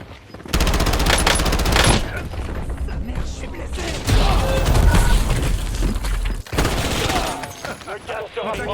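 Gunfire in the video game Warzone: sustained rapid automatic bursts and rattling shots, loud and near, with short gaps, mixed with game voices and a player speaking French.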